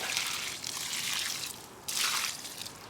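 Worm tea liquid is poured around the base of a plant in a garden, soft splashing and trickling onto moist soil in two quiet bursts with a brief pause between.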